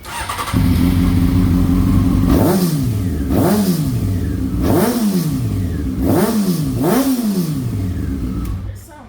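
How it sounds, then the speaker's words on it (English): A motorcycle fitted with a Two Brothers Racing exhaust starts up and settles into a close, loud idle, then is revved in five repeated throttle blips that rise and fall evenly. "it actually sounds really good. It's clean. The actual exhaust note is nice"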